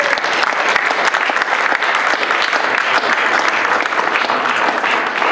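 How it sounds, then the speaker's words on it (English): A crowd applauds steadily throughout, dense continuous clapping from many hands at full loudness with no voices rising above it. "if we could give the panel a round of applause"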